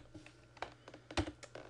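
Fingers type a short burst on a computer keyboard, producing soft, uneven taps and clicks heard close up with no talking.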